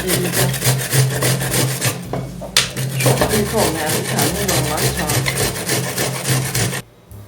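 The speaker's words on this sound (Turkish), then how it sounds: "Ve de soğan rendeleyeceğim." An onion being grated on a grater for Turkish sour köfte soup, with steady rhythmic rasping strokes that are loud and close throughout and stop abruptly near the end.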